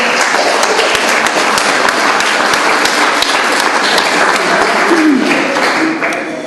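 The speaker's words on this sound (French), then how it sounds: "on pourrait lui offrir une bonne main d'applaudissement pour l'organisation" Audience applause at a 2013 cultural days event honouring Denis Leblanc for organising a 5 à 7 gathering; dense, steady clapping from a crowd fills the room throughout, easing off slightly near the end with faint voices mixed in.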